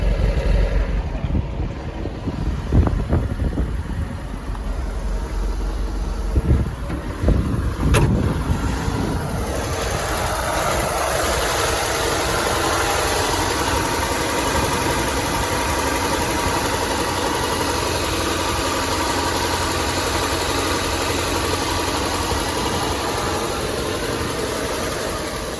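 A 1964 Chevrolet C20 truck's engine, abandoned for 19 years and now running rough and smoking, first sputters with uneven bursts, then settles into a steady, loud idle that continues for a long stretch.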